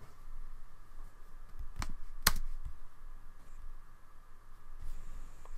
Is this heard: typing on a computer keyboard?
yes